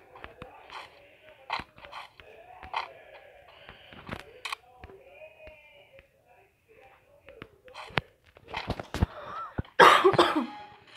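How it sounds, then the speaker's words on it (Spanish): A person coughs in a sudden loud, close burst near the end, after quiet clicks, mouth noises and rustling at a gaming session. "Perdón, gente, por la tos"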